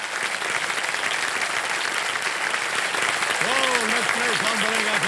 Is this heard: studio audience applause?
yes